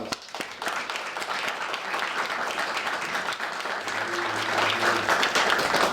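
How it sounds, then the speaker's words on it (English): A crowd applauds a guest speaker with sustained, dense clapping that swells slightly toward the end, with a low hum and a few scattered voices under it. "So please give him a huge round of applause."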